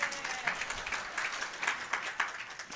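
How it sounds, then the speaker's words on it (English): Brief round of audience applause at the Xcon 2004 conference talk, scattered hand claps rising and falling in quick bursts, moderately distant and fairly soft for under three seconds. "So I want to give him another round of applause."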